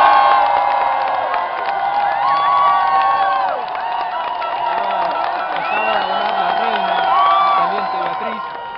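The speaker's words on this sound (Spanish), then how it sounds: "Se escuchó el audio en la plaza y la gente empezó a aplaudir." A crowd gathered in a plaza cheers and applauds, a dense, sustained roar of shouts, whoops and clapping that swells and holds throughout, with voices calling out over the din.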